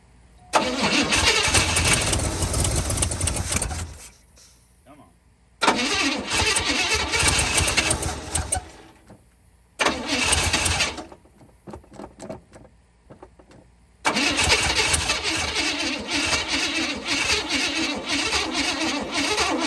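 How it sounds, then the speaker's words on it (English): A 1979 Cadillac engine that has sat for 27 years cranks and fires in repeated loud bursts, four attempts separated by short quiet pauses, the last catching into a sustained rough run up close. "Let's see if she'll start this time."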